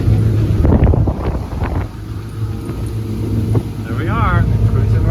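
A 2002 Four Winns motorboat cruising at about 20 mph, steady engine hum beneath heavy wind buffeting and water rush, with someone talking over it.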